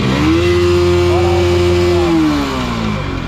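A loud motorcycle engine revs up and holds a raspy, buzzing high pitch before easing back down, close by.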